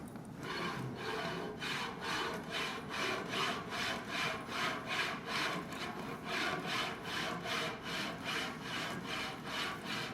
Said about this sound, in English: because it's rolling, these are on bearings, you're not going to scratch the slide tube at all